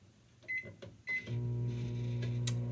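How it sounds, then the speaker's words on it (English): A microwave oven heating a cup of milk: a couple of short button beeps, then a steady low hum as it starts running, close and alone with no talking. "Put it in the microwave for like a minute."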